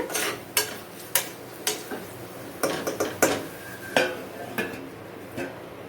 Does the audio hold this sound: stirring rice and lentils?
yes